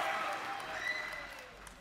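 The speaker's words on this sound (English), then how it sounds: "Give the players a round of applause as they enter this also important match." Audience applause greets players entering an important semi-final match at the Arctic Gaming Experience 2022 esports event, a steady wash of clapping at moderate level over the whole stretch, with some crowd noise.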